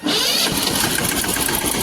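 A tractor engine that had stalled catches and starts, then settles into a loud, close, rattling run.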